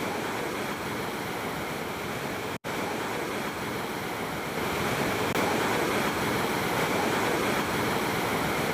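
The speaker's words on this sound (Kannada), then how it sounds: "KRS ಗೇಟನ್ನು ಓಪನ್ ಮಾಡಿರೋದ್ರಿಂದಾಗಿ ಸಾವಿರಾರು ಕ್ಯೂಸೆಕ್ ನೀರು ಪೋಲಾಗ್ತಾ ಇರೋದನ್ನು ಗಮನಿಸ್ತಾ ಇದ್ದೀರಾ" Thousands of cusecs of water pour from an opened KRS dam gate in Mandya district, a heavy, unbroken roar that stays loud throughout, with one brief dropout and no voices.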